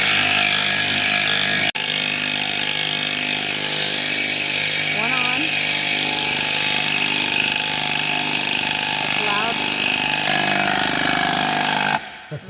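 A bandsaw with a worn blade cuts through wood in a workshop, producing a loud, continuous buzzing drone for about twelve seconds that cuts off sharply near the end, with faint voices briefly audible beneath it.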